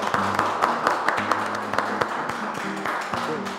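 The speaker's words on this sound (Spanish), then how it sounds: "¿Se puede aplaudir?" A few people clapping lightly at the close of a remote talk, scattered claps with a faint steady hum underneath.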